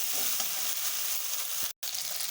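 Poppy seed and mustard paste with green chili sautéing in a pan for a fish curry, a dense, constant close sizzle with faint stirring, briefly cut off near the end.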